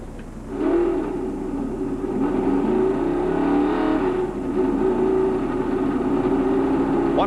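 Stock cars at the 1996 Nashville Opryland USA BellSouth 320 roar steadily around the track, a loud continuous engine drone that swells and sustains for several seconds, with no talk.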